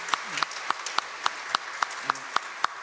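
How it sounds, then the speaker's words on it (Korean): Sparse, scattered hand claps from a small church congregation during a Sunday service, a few sharp claps spaced irregularly over faint room noise. "격려와 축복의 박수로 이분들을 맞이하겠습니다"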